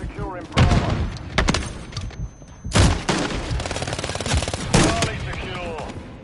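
Several sharp, booming blasts go off in a video game, a stun grenade among them, spaced a couple of seconds apart amid other combat noise, with voices speaking between them.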